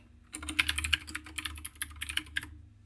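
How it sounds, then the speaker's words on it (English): A password typed on a computer keyboard: a quick run of soft, close key clicks lasting about two seconds, with quiet before and after and no talking. "But if I go ahead and type it"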